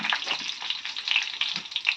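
Cumin seeds, dried red chillies and curry leaves sizzle and crackle in hot oil as a tempering for a ridge gourd curry. The frying is close and continuous, with small popping bursts and no talk.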